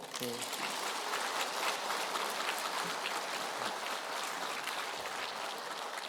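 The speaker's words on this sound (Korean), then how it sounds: "우리 하나님께 영광의 박수 할까요?" Congregation clapping at a Korean church prayer meeting, a soft, even wash of many hands heard from a distance for several seconds, with a brief voice near the start.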